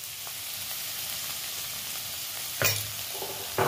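Betho greens fry with turmeric in a pan, giving a constant soft sizzle broken by two sharp scraping stirs of a spatula near the end.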